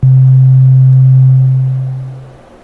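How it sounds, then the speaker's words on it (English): A single low synthesizer tone with sustain turned all the way down holds steady for about a second and a half, then fades quickly to silence. "So let's listen now with sustain turned all the way down."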